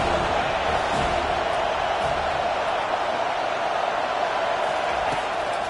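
Steady roar of a college football stadium crowd on third down, a dense continuous wash of cheering voices with no breaks, loud and even throughout.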